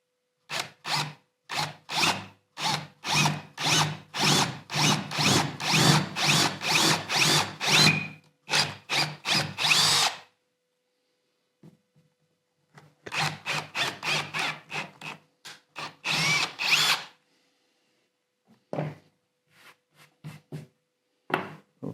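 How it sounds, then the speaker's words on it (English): A power drill whirs in rapid bursts, biting into a wooden tabletop with a steady grinding buzz, pausing briefly, then drilling again in shorter runs. "Make sure that the depth you're drilling is no greater than the thickness of your table"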